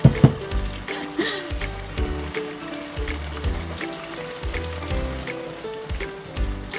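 String beans (sitaw) cooking in a pan, a crackling patter like rain with sharp pops and clinks, close up and fairly loud, with a steady hiss underneath.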